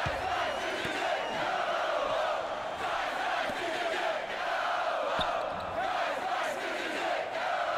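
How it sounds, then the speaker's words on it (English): A crowd in the NBA 2K16 basketball video game roars and chants steadily throughout, with occasional thumps of a ball bouncing underneath. "Holy shit, this crowd goes hard."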